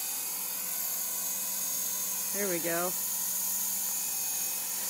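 Helicopter hovering in snow, a steady rotor and engine drone running throughout, with a brief rising-falling whine in the middle and a short spoken phrase over it.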